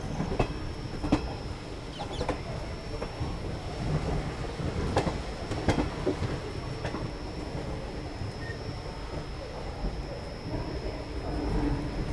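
A passenger train, the 14320 from Bareilly to Indore, rumbles along steadily, with a low continuous roar and occasional faint clacks and metallic squeaks, no voices.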